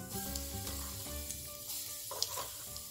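Mustard seeds, cumin and turmeric sizzle and crackle in hot oil for an onion chutney, a steady close frying hiss with a few sharper pops and no voices.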